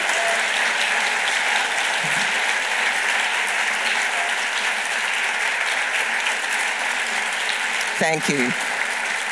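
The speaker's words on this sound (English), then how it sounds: "will we give them another round of applause?" A loud, continuous round of audience applause for the finalists at a university Three Minute Thesis grand final, with close, even clapping throughout and a brief spoken voice near the end.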